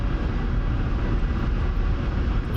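A Ka-50 Black Shark attack helicopter in the DCS flight simulator flies with a heavy, steady engine and rotor drone. The sound is loud, close and constant with no break.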